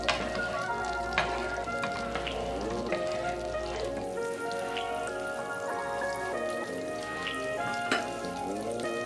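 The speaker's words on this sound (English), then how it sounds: "heat up the butter in a large pan" Butter melts and sizzles in a large pan, a steady crackling spatter with scattered pops, close and continuous, over faint background music.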